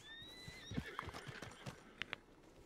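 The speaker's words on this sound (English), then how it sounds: "This is my horse." A horse in the video game Red Dead whinnies briefly, followed by a few soft hoof clops and light thumps, fairly quiet overall.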